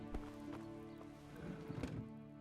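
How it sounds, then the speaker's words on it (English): Horse hooves clop and thud in Kingdom Come: Deliverance, a loose series of irregular hoof falls at moderate distance over a steady game ambience, with no talking. "It's not easy to control a horse,"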